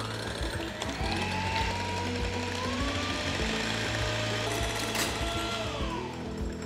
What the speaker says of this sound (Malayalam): എഗ് വൈറ്റ് നന്നായിട്ട് ബീറ്റ് ചെയ്തെടുക്കാം